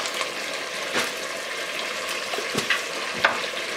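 Onions and garlic sizzle in a pan while cooking Senegalese chicken yassa, a constant close frying hiss broken by a few sharp stirring scrapes and clinks.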